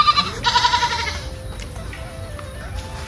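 A goat gives a short, wavering bleat right at the start, then the sound drops to a quieter background murmur.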